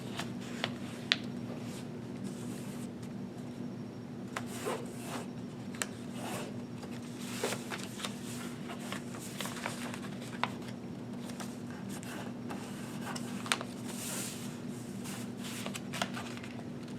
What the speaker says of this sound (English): Now you're going to take each of these shorter edges and fold them up along the crease.